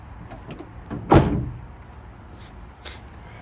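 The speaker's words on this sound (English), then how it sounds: "Easy let down tailgate." Tailgate of a Chevrolet Silverado EV being let down, a single soft thud-like clunk with a brief mechanical glide, heard near and alone with faint surrounding noise.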